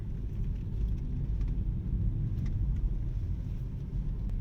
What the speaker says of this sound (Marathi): आता आपण घाट सेक्शनला गाडी ड्राईव्ह करतो